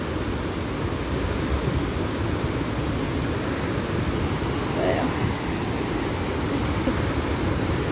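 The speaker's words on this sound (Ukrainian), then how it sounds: "просто так голосно е, тече вода, що капець" Steady, loud broadband rushing of water from the Rhine Falls in August fills the whole stretch; a voice briefly speaks over it.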